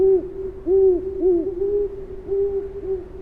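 An owl hoots repeatedly in a steady rhythm, clear and fairly close, each call a short low tone with a slight rise and fall, about six hoots in a row with no other sound.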